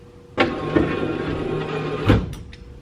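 A repaired car's automatic electric window motor whirs steadily as the glass goes down, starting with a clunk and ending with a thump and a couple of faint clicks.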